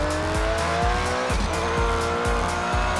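A race car in a VR racing game brakes and turns, with a loud, close engine note dropping and climbing through repeated gear-shift sweeps while the tires squeal and skid over the top.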